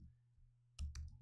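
Computer keyboard keys clicking while a command is typed for a CentOS install: a quiet low hum, then a few sharp, close clicks in a short cluster near the end, with no voice.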